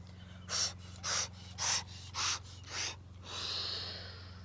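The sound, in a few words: deep yoga breathing during bhastrika exercise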